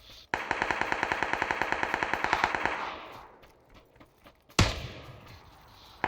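Rapid automatic gunfire in a shooting video game, a tight burst of sharp regular shots lasting a few seconds, then quieter thuds and a single loud blast near the end.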